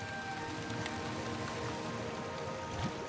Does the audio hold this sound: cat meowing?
no